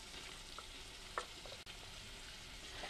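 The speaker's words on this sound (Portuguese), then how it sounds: "Mexemos e deixamos refogar mais um pouco." Soft frying hiss runs steadily throughout, with a few light scrapes and clinks of a utensil stirring sautéing bell pepper, tomato and herbs in a pan.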